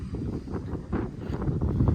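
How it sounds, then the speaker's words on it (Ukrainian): Gusty wind buffets the microphone in an open wheat field where a tractor sprays herbicide, a rough low rumble rising and falling in uneven surges. "Ще вітер сьогодні трохи"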